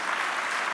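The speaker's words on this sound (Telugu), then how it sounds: "ఒకసారి చప్పట్లు కొట్టి దేవుని స్తుతిద్దాం" A church congregation claps in unison to praise God, a dense, steady burst of applause lasting under a second before cutting off abruptly.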